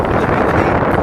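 A 1.5-horsepower portable air conditioner with cooling and heating runs steadily, giving a close, constant rush of blown air like broadband wind noise with no breaks for its full length.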